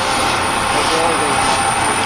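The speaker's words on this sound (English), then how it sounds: "There comes the drone," A SpaceX camera drone flies near the Starship launch tower, a steady broadband whir of rotors and motors that holds loud and constant throughout.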